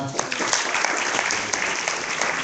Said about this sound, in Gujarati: તો દરેક બાળકો માટે સૌથી પહેલા તાળી સાથે ગડગડાટ